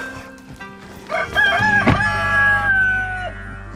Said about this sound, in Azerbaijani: Xoruzlar.